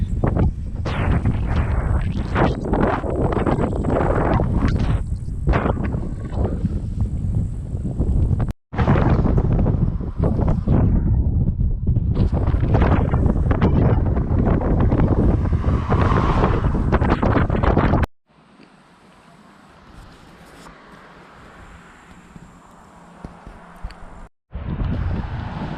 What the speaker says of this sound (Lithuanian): Labai stiprus vėjas, tiesiai į veidą